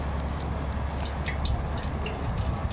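Apple cider donuts lowered into hot, already bubbling oil over an outdoor cooking setup, giving a steady, dense sizzle and crackle with fine popping throughout, fairly close and continuous.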